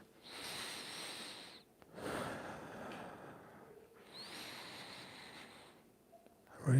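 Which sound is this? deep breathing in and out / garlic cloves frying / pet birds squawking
deep breathing in and out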